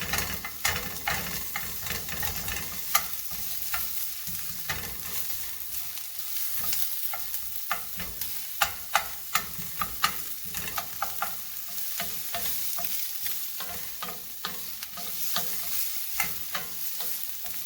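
Canned meat and garlic sautéing in a pan, with a steady close sizzle broken by sharp scraping stirs and utensil clicks throughout, no voices.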